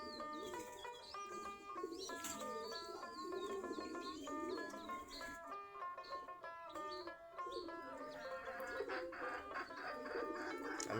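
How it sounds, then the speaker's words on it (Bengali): Pigeons feed in the morning while other fowl cluck and coo around them in a constant, layered chorus of bird calls. The birds sound fairly close but quiet, with no voices. "আমাদের কবুতরগুলো সকালবেলা খাবার খাচ্ছে।"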